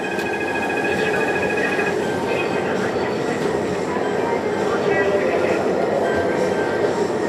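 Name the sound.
Meitetsu train departing in video game Densha de GO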